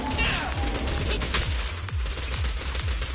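Rapid bursts of gunfire from the video game Zenless Zone Zero, with repeated thumping shots in a steady rhythm over dense, loud combat effects and music.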